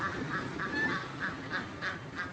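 Ducks on a village farm quack in a steady series of short calls, about eight evenly spaced, moderately close over faint outdoor background noise.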